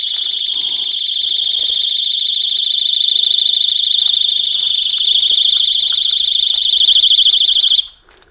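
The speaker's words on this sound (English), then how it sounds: "then the main alarm goes off." An Oxford Boss ground anchor lock's main alarm sounds as a loud, piercing, steady electronic tone, continuous for about eight seconds before cutting off abruptly.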